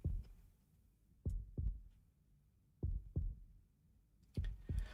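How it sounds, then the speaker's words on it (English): Slow, looping heartbeat from the Chaos;Child visual novel: paired low thumps repeating about every one and a half seconds, fairly quiet, with no music or talk around them. "it's just the heartbeat sound over and over again."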